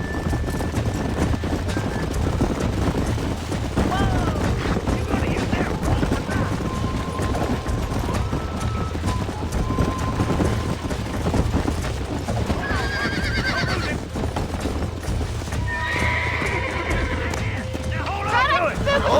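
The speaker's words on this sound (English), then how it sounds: "There's the horses! Get that lasso ready!" Horses in the Red Dead Redemption video game neigh and whinny while hooves clip-clop steadily, layered over game music and ambience, with someone talking throughout.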